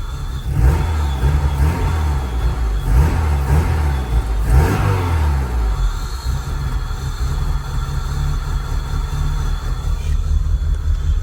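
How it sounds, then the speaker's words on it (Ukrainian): A 2000 Peugeot 306 engine, just brought back to running after an ECU fault, revs up loudly in several close rising bursts before settling into a rough steady idle. "А ну ще газну чуть-чуть."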